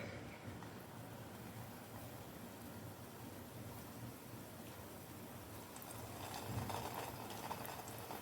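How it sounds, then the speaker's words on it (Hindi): Chicken and potato bread rolls fry in hot oil in a pan, giving a steady, close bubbling sizzle that continues throughout and swells slightly toward the end, with no talking. "तो ऐसे ही हम एक एक करके इसमें रोल सारे ऐड कर लेंगे और इन्हें गोल्डन ब्राउन होने तक फ्राई करेंगे"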